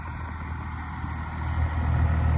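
A first-generation Cummins diesel truck engine, already warm, idles with a steady low, even rumble that gets slightly louder toward the end, with no talk.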